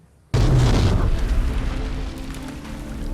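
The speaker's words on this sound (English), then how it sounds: "The biggest man-made explosion in history." A huge explosion from the Oppenheimer film, billed as the biggest man-made blast in history, hits with a sudden deep boom and then rolls on as a loud, sustained rumble with no voices over it.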